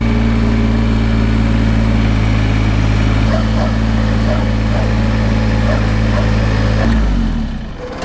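A Kubota BX2380 compact tractor's diesel engine runs steadily and loud up close, a constant low drone with harmonic hum, then winds down near the end as it is shut off.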